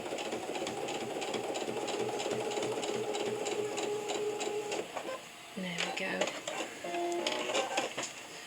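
A sewing machine quilting fabric runs with a steady, rapid mechanical whir, pauses briefly, then starts again, while a person talks over it.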